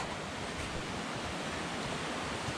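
A high-water mountain stream at a trail crossing on Mount Tecumseh rushes steadily, a dense, unbroken roar of water close by with no pauses.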